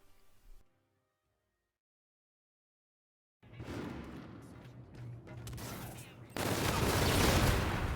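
Bursts of gunfire from Call of Duty: Infinite Warfare break out after a silent gap and build into loud, dense automatic fire with heavy blasts, with no talk over them.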